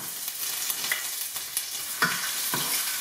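Onions fry in about four tablespoons of hot oil in a pot, giving a continuous crackling sizzle broken by a few soft stirring scrapes and taps, with no talking.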